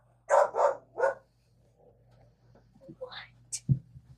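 A dog barks three times in quick succession, fairly close and loud, followed by quieter rustling and soft handling noises with a faint background hum.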